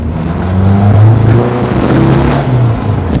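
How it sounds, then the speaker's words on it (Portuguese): A Volkswagen Beetle (Fusca) convertible fitted with a Subaru 2.0 engine and automatic gearbox revs and pulls away, a loud, close, rising engine drone with a strong low rumble, no voices. "Quer ver? Dá uma acelerada aí."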